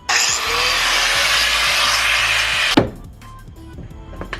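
A power saw cutting a car suspension strut in half during a Nissan 350Z drift build, a loud steady grinding whine that cuts off abruptly near the end, followed by clanks and low rumble.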